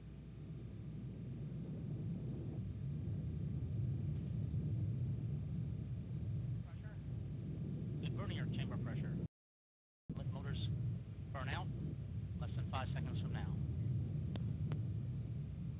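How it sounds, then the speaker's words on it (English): Low roaring rumble of the last United Launch Alliance Delta II rocket lifting off with GPS 2R-21, a broad steady distant roar with a brief dropout midway, under an announcer's voice. "Liftoff of the last United Launch Alliance Delta II rocket carrying GPS 2R-21 for the United States Air Force."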